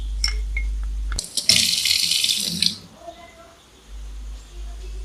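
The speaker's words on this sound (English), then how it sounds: "pour little water to make a fine paste" Water is poured into a spice paste of garlic, cumin seeds and red chili powder, a brief splashy pour of about two seconds between quiet kitchen stretches.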